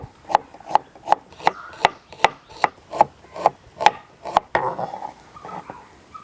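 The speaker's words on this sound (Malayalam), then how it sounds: "രണ്ട് വല്യുള്ളി ഇതാ തൊലിയൊക്കെ കളഞ്ഞ് വെച്ചിട്ടുണ്ട് അത് അരിയട്ടെ ആദ്യം" A knife chops through two large peeled onions on a board, about a dozen crisp, evenly spaced thuds close by, followed by a short stretch of scraping and clatter as the pieces are moved.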